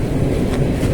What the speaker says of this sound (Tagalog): Approaching yung tren sa station.